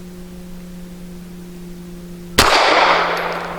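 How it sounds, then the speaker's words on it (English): A single sharp rifle shot from a Cosaint Arms COS11 cracks loud and close at a range, its blast decaying over a second, following a steady electrical hum. "One last shot."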